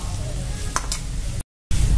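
Cucumber stir-fried in oil in a pan, a steady close sizzle with a couple of brief scraping stirs, then a short gap before the frying resumes louder.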